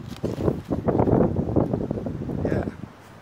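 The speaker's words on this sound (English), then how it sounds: "I'm sorry it was so windy out there" Strong outdoor wind buffeting the microphone in uneven rumbling gusts, loud and close for a few seconds.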